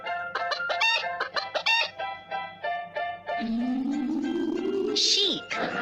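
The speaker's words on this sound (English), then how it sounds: "Chicken." A chicken clucks several times in quick succession, fairly close and clear, with a rising musical tone behind it and a short burst of broadband noise near the end.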